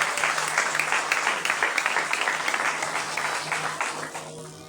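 A church congregation clapping hands in worship, a dense, rhythmic wash of many hands beating together steadily and fairly loud, with a faint hum beneath.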